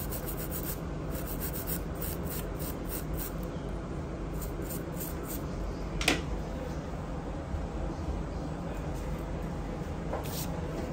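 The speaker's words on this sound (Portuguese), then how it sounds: "então aqui a gente vai fazer a limpeza nessa plaquinha." Soft, steady rubbing and scrubbing as a small phone microphone circuit board from a Xiaomi Note 11 Pro 5G is cleaned after soldering, faint and continuous with an occasional sharper scrape.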